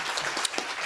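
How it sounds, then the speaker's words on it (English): A brief burst of audience applause at a startup pitch event, a dense, even patter of many hands clapping in a room. "let's give him a big round of applause"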